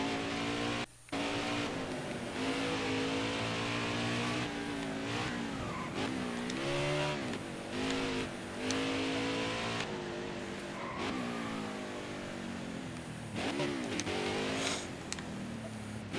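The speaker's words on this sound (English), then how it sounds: "listen to the engine sounds on this beautiful car" A race car engine from the NASCAR Heat 5 video game revs loudly and continuously, rising and falling in pitch through gear shifts and throttle changes, with occasional tire squeal; no talking over it.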